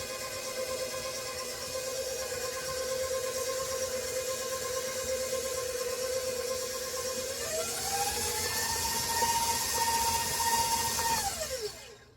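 An electric mixer beats a 7UP cake batter of flour and sugar in a bowl, a steady whirring hum that jumps up in speed partway through, then cuts off abruptly near the end.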